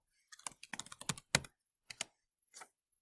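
Bursts of keystrokes on a computer keyboard as a short word is entered into a graphics program, a quick cluster of clicks followed by a few separate taps, close and clear with no talking.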